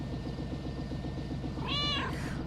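A cat meows once, a short clear call over steady low background noise and music in the video game Lake.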